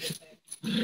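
A dog growls and whimpers in short bursts close by, greeting a cat at home, with a brief silent gap between two rough, throaty outbursts.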